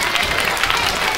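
Loud, close applause from a crowd at a school fair retirement send-off, continuous dense clapping throughout.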